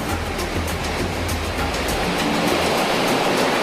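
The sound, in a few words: ocean waves breaking on the coast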